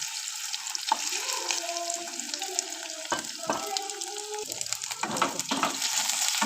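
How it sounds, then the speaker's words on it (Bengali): Soybean chunks fry in hot oil, a close bubbling sizzle with shifting tonal hisses and a few sharp bursts as the pieces are moved around. "তেলটা গরম হয়ে গেছে এবার আমি এটাকে ছেড়ে দিলাম ভালো করে এটা আমি ভেজে নেব"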